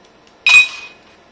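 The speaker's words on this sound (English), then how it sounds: "I just pour that in the glass and put these ice cubes in it." A single bright clink as small plastic fake ice cubes drop into a glass, a sharp close impact with a short ringing tail that fades within about half a second, otherwise quiet.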